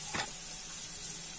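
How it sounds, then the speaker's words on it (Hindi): Tomato puree added to sizzling paneer bhurji masala, a quick burst of sharp splattering at the start settling into a steady close hiss of frying. "अब हम इसमें टमाटो प्यूरी डाल देंगे।"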